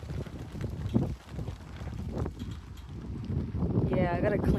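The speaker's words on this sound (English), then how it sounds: "Oh, it's getting windy." Gusty wind buffets the microphone outdoors on a rainy day, a rough fluctuating rumble running throughout while a person talks over it.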